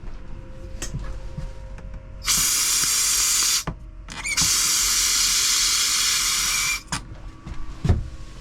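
Two loud bursts of rushing air hiss through a camper toilet's water line being blown out with an air compressor, separated by a short gap, with faint clicks and knocks around them.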